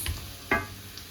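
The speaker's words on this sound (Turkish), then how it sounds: "patatesi ekliyorum. karıştırıyorum. Patatesle birlikte de bir iki dakika daha kavuracağız." Potatoes stirred into a hot pan for a Turkish meatball stew, giving one brief scraping, sizzling stir over a faint steady fry, with no voices.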